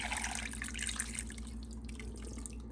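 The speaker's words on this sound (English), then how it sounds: "now we're gonna pour all this dripping over our meat, like so" Meat drippings are poured over a beef shank, a faint wet trickle and drip of liquid that fades toward the end, heard alone over a low steady hum.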